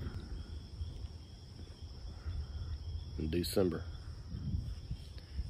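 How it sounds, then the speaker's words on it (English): Steady, high-pitched cricket trilling fills the night air with a low croaking chorus of frogs beneath, in January, and a voice speaks briefly partway through. "sitting here listening to frogs and crickets"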